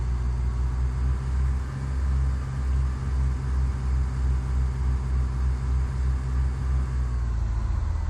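Steady low engine rumble of an aircraft in Microsoft Flight Simulator X rolling down the runway after touchdown under maximum braking, a continuous droning hum with no pauses.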